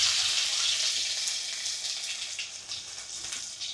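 Garlic dropped into hot oil tempered with cinnamon, cardamom, cloves and black pepper for a mutton dish, giving a loud steady hiss and crackle up close that slowly eases.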